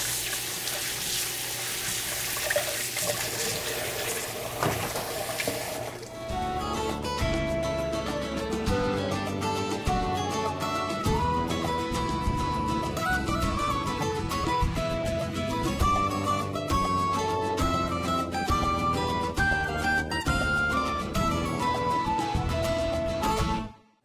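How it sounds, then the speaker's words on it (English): Running tap water pours into a kitchen sink while hands are washed, a steady splashing rush that continues under clattering, busy background sound throughout. "Let me wash my hands up real fast."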